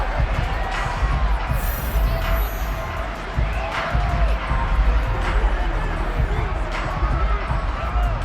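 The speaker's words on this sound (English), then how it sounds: "that might be exactly what they needed to wake up this home crowd" A home crowd cheering in the American football video game Madden 23, with a continuous, swelling stadium roar and hubbub under commentary voices.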